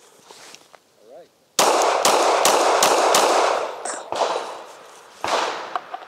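Gunshots ring out at a target in a rapid string of loud, sharp cracks, about half a dozen close together, following quieter talk.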